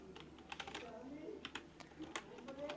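Computer keyboard keys clatter in quick, uneven bursts as Pygame code is typed, close and moderately loud, while someone talks quietly over the typing.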